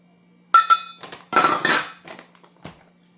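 Banana oat bread batter is stirred in a bowl, with a few sharp clinks of a utensil against the bowl followed by scraping and knocking, spaced out over a few seconds in a quiet kitchen.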